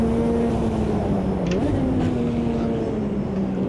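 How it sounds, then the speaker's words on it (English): GTO mod race car from the Automobilista 2 sim racing game, its engine a steady, loud droning hum with a constant low tone that holds throughout without pause, slight pitch shifts as it runs. "Don't know if you can hear this car, but it sounds absolutely awesome."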